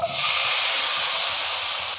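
Ivy gourd tipped into hot oil in a pan for a coconut milk curry with raw mango, giving a loud, steady close-up sizzle and hiss that lasts the whole stretch with no talking.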